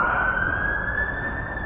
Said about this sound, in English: Oh, sirens have stopped.